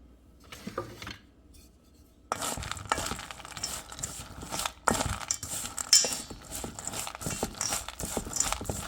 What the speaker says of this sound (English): We're just gonna mix this and set to side.